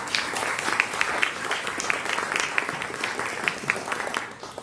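Audience applause welcoming the guest speaker, a professor, at an Active Aging Week talk; dense, steady clapping from a sizeable crowd fills the clip evenly and stays moderately loud throughout, with no talking over it.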